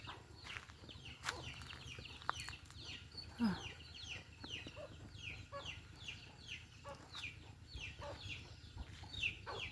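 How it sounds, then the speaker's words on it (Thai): A hen clucking softly and repeatedly as she leads her chicks up to roost at dusk, with thin chick peeps and other farmyard birds around, a steady outdoor evening ambience. "ดูไก่ขึ้นพาลูกขึ้นไปนอน"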